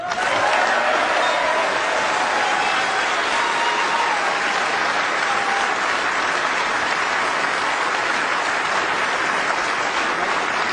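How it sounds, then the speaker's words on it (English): Loud, sustained applause from a large crowd fills the room at a snooker world championship trophy presentation, steady and dense throughout. "But Ali, our applause goes to you, ladies and gentlemen"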